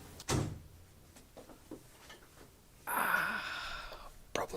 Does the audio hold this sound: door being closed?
yes